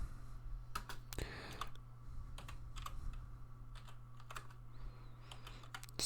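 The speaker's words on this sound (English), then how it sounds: "it's taking me so long with the one-handed typing here" Quick, irregular clicks of one-handed typing on a computer keyboard sit close and clear over a steady low hum, with bursts of keystrokes spaced by short pauses.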